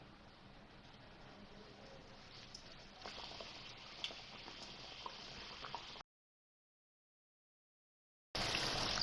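Chana dal kachori sizzles in hot oil, a steady soft bubbling hiss that runs for about six seconds, then stops abruptly and gives way to silence before a brief burst of noise at the end.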